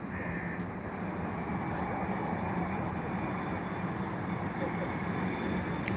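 A Boeing 777 airliner at London Heathrow roars steadily and loudly, a dense broadband jet-engine rumble that holds constant throughout without any voices.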